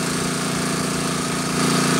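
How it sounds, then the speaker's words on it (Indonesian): A well-drilling rig bores a water well in a village in South Lampung, Indonesia, its engine and drill making a loud, steady, pulsing mechanical drone that runs unbroken and swells slightly near the end. "mari kita ngebor kembali"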